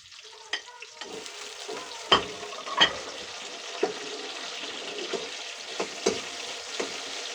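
Hot oil splatters and sizzles in a home frying pan, a steady crackling hiss punctuated by sharp pops and stirring clatter at irregular intervals, close and fairly quiet, with no voices.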